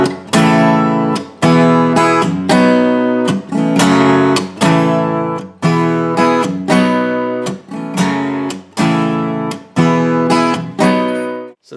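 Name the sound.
guitar strumming pattern of final section of a song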